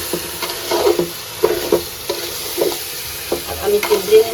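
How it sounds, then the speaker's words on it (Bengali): Rice with carrot frying in a pan for biryani, stirred with repeated scraping strokes over a soft sizzle, close and fairly loud, with no talking. "চাউলটা ভেজে নেব।"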